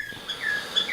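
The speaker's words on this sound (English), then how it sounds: "Sorry about my birds." Pet birds sing indoors in the morning, a few thin, high chirps and short whistles, faint and scattered over quiet room noise.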